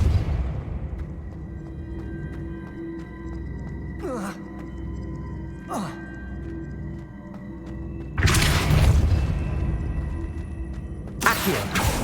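In the Hogwarts Legacy video game, swooshing spell casts sweep past a couple of times, then heavier Depulso push blasts land as loud bursts of crashing noise, with occasional voice between them.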